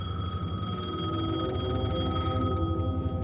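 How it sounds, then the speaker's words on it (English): A payphone in the video game Alan Wake 2 rings on and on with a bright electronic trill over a low ambient rumble, close and fairly loud, with no speech. "The payphone was ringing."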